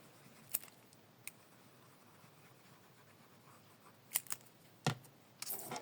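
Scissors cut patterned paper for a handmade mini album: a few sharp isolated snips and clicks sound close by against a quiet background, with a brief rustle of paper at the end.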